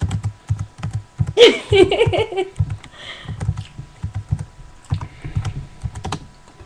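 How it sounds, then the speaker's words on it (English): Fingers type on a Hackintosh computer keyboard with food smeared on it, making a run of quick, irregular clicking keystrokes close by, broken by one louder, noisier burst partway through. "You care if I finish typing it?"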